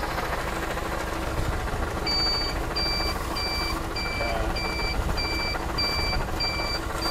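A steady series of high electronic beeps from the hazard flasher of a hand-built Willys jeep, evenly spaced, over a loud continuous engine rumble.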